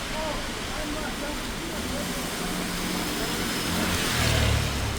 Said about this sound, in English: Now it's time for bus 5 to come.